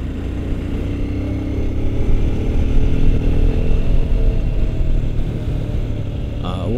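A Royal Enfield Scram 411 motorcycle rumbles steadily as it is ridden off-road, its engine loud and close with clattering road noise and slight swells in revs throughout.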